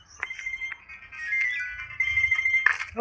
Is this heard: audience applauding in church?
no